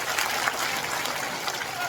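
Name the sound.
audience applause welcoming the school headmaster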